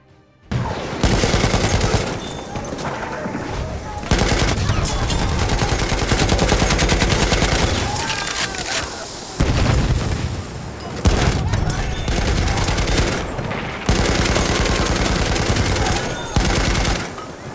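A light machine gun in Battlefield 1 fires loud, close, sustained full-auto bursts, broken by a few brief pauses between strings of rapid shots.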